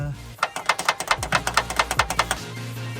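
A car latch on a Nissan R33 Skyline is worked back and forth, producing about a dozen quick, evenly spaced squeaky clicks over roughly two seconds, with music and singing running underneath.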